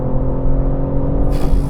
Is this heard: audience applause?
no